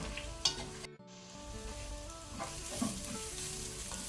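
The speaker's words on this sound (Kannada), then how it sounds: "ಈಗ ನಾವು ಈರುಳ್ಳಿಯನ್ನು ಮೀಡಿಯಂ ಟು ಹೈ ಫ್ಲೇಮಲ್ಲಿ ಗೋಲ್ಡನ್ ಬ್ರೌನ್ ಕಲರ್ ಬರುವ ತನಕ ಫ್ರೈ" Onions fry in a pan over a medium-high flame for a palak chicken gravy, with a steady quiet sizzle, a brief dropout near the start and occasional soft stirring clinks, and no voices.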